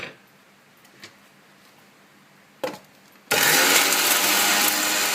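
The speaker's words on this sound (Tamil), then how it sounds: "தேங்காய் பூ, வறுத்த தேங்காய் பூவையும் போட்டு அரைத்து" A mixer grinder grinds roasted grated coconut, starting abruptly after a few soft knocks and then roaring loud and steady to the end.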